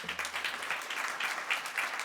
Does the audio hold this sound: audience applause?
yes